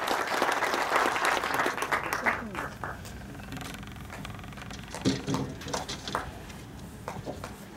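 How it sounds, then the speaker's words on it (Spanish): Applause from the crowd at the inauguration ceremony of an industrial condominium park, a dense burst of clapping that fades as scattered claps and murmuring remain. "Pedimos fuerte el aplauso para Johnny Prieto, por favor."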